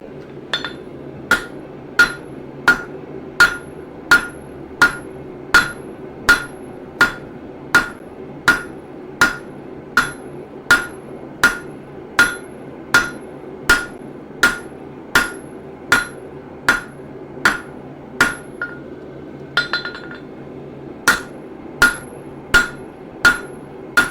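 Hammer pounding hot half-inch steel stock on an anvil to widen a trowel blade, sharp ringing metallic blows in a steady rhythm about one per second, close and loud with a brief pause near the end.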